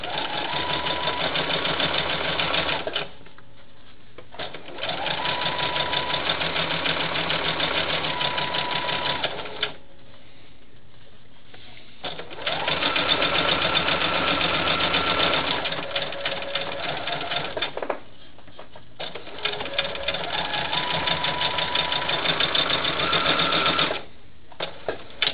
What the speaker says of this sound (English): I'm going to line that up against that fabric line again. And I'm going to start sewing.